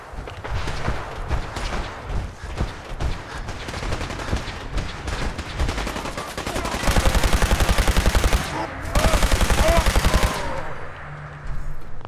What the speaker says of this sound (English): That sounded like Minutemen fire.